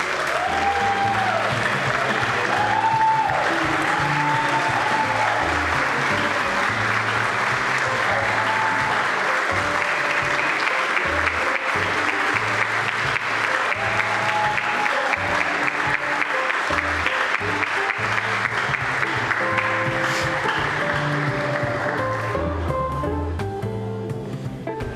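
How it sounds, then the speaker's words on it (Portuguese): An audience at a formal ceremonial session applauds the day's honourees in sustained, dense clapping, while music plays underneath and the applause thins toward the end. "então uma salva de palmas a todos os homenageados deste dia"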